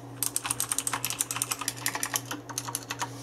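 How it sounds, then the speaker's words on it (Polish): A Razer BlackWidow Ultimate 2014 mechanical keyboard with loud, clicky switches much like Cherry MX Blue is typed on in a quick, uneven run of sharp clacks, close and clear, with no talking. "możecie słyszeć, że klawiaturka jest dość głośna właśnie przez ten charakterystyczny klik podobny do Cherry MX Blue."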